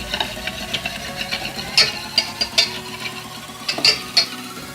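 Spoon stirring a teaspoon of salt into thin buttermilk for neer moru, a run of light clinks and taps against the vessel in an irregular rhythm, close and fairly soft.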